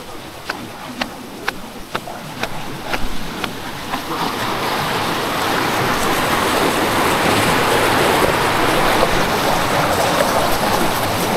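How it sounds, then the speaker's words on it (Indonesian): A river stream flows at Seloresi waterfall in the southern Lawu valley, Wonogiri, opening with a few sharp clicks before a steady, loud rushing wash of water fills the rest. "Suara aliran sungai sangat-sangat mendamaikan."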